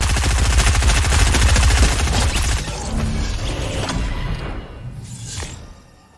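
Video game gunfire rattles in loud rapid machine-gun bursts, dense at first and then thinning out with a whoosh and fading toward the end, with no talking.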